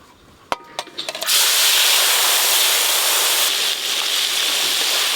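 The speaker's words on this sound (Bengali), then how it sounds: "চিংড়ি মাছগুলো ভালো করে ভেজে নেব" Prawns hit hot oil with a few sharp pops, then settle into a loud, continuous close-up sizzle that holds steady to the end.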